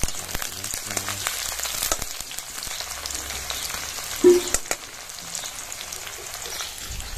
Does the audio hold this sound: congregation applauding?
no